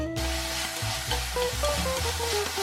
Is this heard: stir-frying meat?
yes